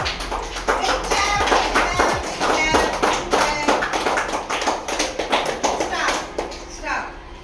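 Children in a classroom English lesson clap for classmates' drawings, a brisk run of scattered, close hand claps that keeps going for several seconds while voices talk over it.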